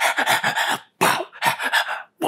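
A voice imitates a dog-like sound with rough, breathy panting and barking bursts in quick clusters, loud and close, broken by short pauses.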